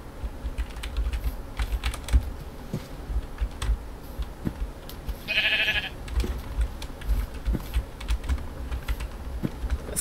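A Minecraft sheep gives one short, bright bleat midway, set against a steady clatter of computer keyboard typing and mouse clicks, with no one talking.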